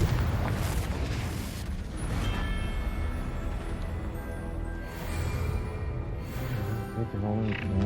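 A Confringo fire spell from Hogwarts Legacy detonates in a loud, sustained blast that rolls on under busy game sound and music, with further bursts flaring throughout.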